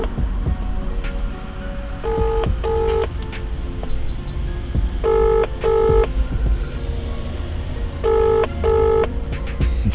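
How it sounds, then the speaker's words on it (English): A telephone call ringing out on the EE network, heard as a repeating double-ring ringback tone in three paired bursts about three seconds apart, over a steady low background rumble. "Oh, it's ringing."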